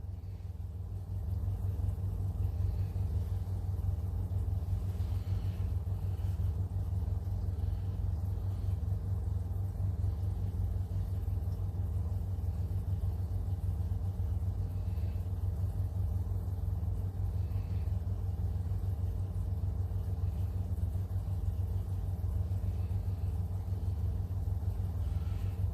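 Steady low engine rumble rated at 182 horsepower, running continuously at an even idle-like pace for the whole stretch, close and constant with no talk.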